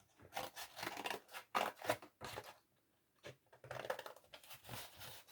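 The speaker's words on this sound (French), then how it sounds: "Une fois le Miraculous de la tortue dessiné comme ça, vous n'avez plus qu'à le découper et le récupérer du coup" Scissors snipping through cardboard to cut out a drawn turtle shape, close and crisp, in irregular bursts of quick cuts separated by brief pauses.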